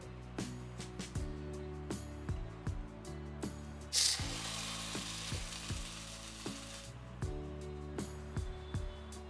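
Paneer frying in a pan over a medium flame, a steady close sizzle with soft scraping and turning clatter, a brief louder hiss burst midway, no talking.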